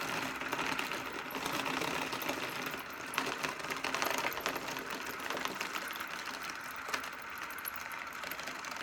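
Rubber-band motor unwinding on a model aircraft, spinning its propeller with a continuous whirring, rattling mechanical buzz at close range and steady level, no talk.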